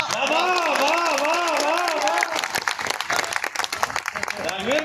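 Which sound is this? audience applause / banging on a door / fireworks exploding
audience applause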